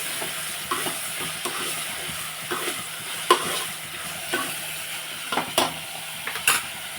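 Onions and turmeric stirred in a frying pan, a soft steady sizzle broken by intermittent scraping knocks of the spoon against the pan, close and moderately quiet with no talking.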